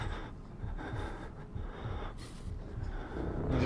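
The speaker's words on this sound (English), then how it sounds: "He's still breathing." A man breathes heavily in the video game Outlast, with rhythmic rasping inhales and exhales repeating under a steady low background rumble, fairly close.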